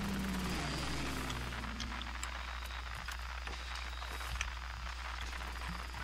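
Low, steady engine drone from an aircraft flying overhead in the World War II shooter Medal of Honor: Pacific Assault, a continuous rumble with faint game sounds and scattered clicks over it.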